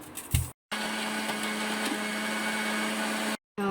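A mixer grinder whirs steadily while blending a milk mixture with cardamom powder for South Indian junnu pudding, loud and close, starting and stopping abruptly in short pulses.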